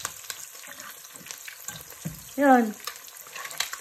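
Bacon and eggs frying in a pan for breakfast give a steady crackling sizzle, with a brief louder squeal of hot fat midway and a short word spoken over it.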